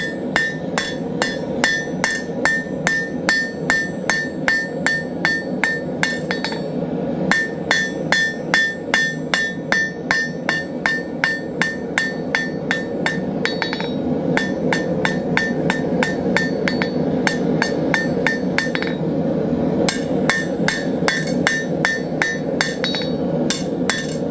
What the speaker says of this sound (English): I'm also, you'll notice, hammering well into a black heat. This is a technique called planishing.